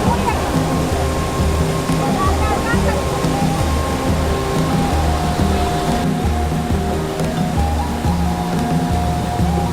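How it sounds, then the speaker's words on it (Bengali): Waterfall at Netarhat, a loud continuous roar of falling and rushing water filling the whole clip, with people talking over it. "ওই উপর থেকে জলটা পড়ছে"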